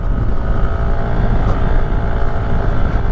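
Kymco SkyTown 150 scooter with a CVT, its engine pulling up a curving hill; a loud, steady drone with wind rush runs throughout, with no talking.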